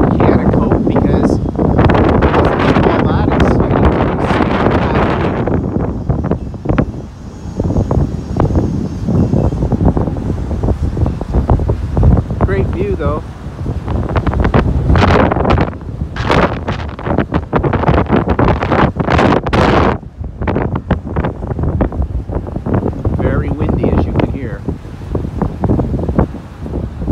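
Gusty seaside wind buffets the microphone near the water, roaring in loud, uneven bursts that rise and drop, with a muffled voice partly buried beneath the rumble.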